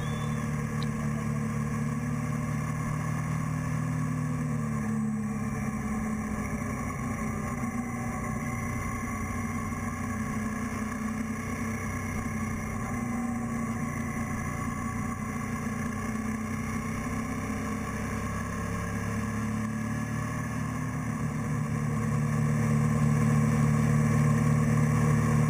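An Aprilia sport bike and other motorcycles ride along a road on a group ride, their engines giving a steady mid-pitched drone that swells toward the end.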